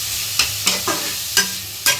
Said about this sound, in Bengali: এদিকে পনির ভাজা হচ্ছে